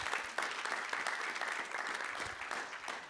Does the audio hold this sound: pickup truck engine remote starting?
no